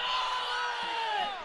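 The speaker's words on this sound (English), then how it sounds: "Crowd calling for another stall." Wrestling crowd at a college dual meet between Northern Colorado and Utah Valley, a sustained loud roar of voices and whistles rising steadily for stalling, filling the arena continuously without a break.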